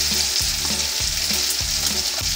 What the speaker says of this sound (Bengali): এই জন্য লো ফ্লেমে রেখে আমরা সবগুলি ভেজে নেব।